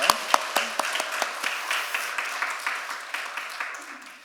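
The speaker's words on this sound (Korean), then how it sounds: "우리 잠깐만 일어나 주시면 우리 박수로 환영하도록 하겠습니다" A church congregation applauding to welcome visitors during a Sunday service, a dense steady patter of many hands clapping that continues throughout.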